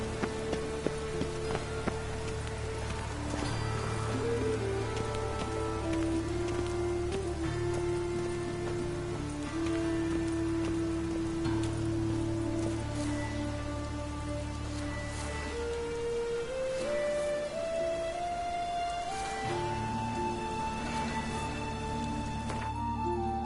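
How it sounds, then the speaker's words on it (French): Rain falls steadily in the video game The Witcher 3: Wild Hunt, a soft continuous patter under a sustained musical score that rises in pitch over time. "Il pleut encore."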